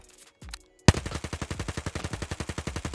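Rapid automatic gunfire from a weapon shooting green tracer rounds in the game Escape from Tarkov, a sharp loud opening shot followed by a steady fast burst of evenly spaced reports, with faint clicks beforehand.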